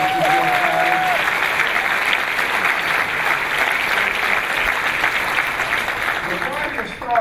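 Steady audience applause for Congressman Joe Crowley at a New York infrastructure event with Vice President Biden and Governor Cuomo; dense, even clapping fills the room throughout, with faint voices underneath.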